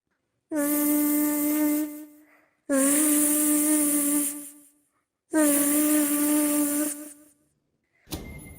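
Three sustained, nasal buzzing tones from a voice imitating a mosquito, each about two seconds, close and loud with short pauses between.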